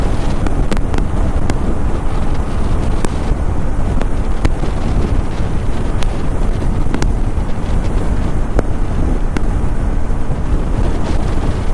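Wind rushes steadily over the microphone on a dark, cold commute to work, a dense, unbroken roar with faint ticks scattered through it and no voices.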